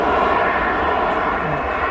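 A business jet at Manchester Airport gives a steady, loud broadband engine roar that fills the whole moment, with no pause or change in level.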